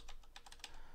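Keys on a computer keyboard clack in a quick, uneven burst of about six taps, close and fairly quiet.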